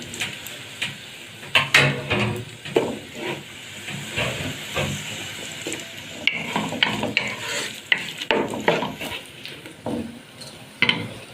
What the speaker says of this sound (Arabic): هنا بصله اهي هنزل في الماده الدهنيه بتاعتنا اهي